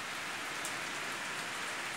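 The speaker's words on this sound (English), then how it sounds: "you can see it's raining right now" Steady rain falls in the hill town of Mussoorie, a dense even patter with no breaks, fairly soft and with no one talking.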